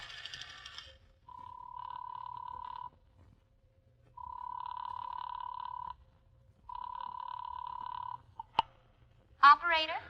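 A telephone rings in a vintage radio drama, three long rings separated by short pauses, faint and clean, followed by a click and a brief voice at the end.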